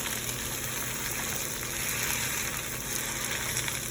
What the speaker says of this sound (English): press your spinach into the pan like this